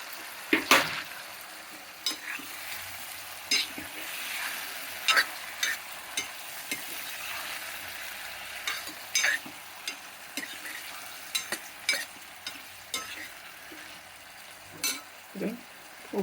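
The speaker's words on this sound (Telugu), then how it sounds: "ఇందులో అన్నీ వేయించుకోవాలి ఇప్పుడు నూనెలో." Vegetables for sambar rice fry and sizzle in hot oil in a pan, with a steady hiss broken by frequent scraping and clinking of a spoon stirring against the pot.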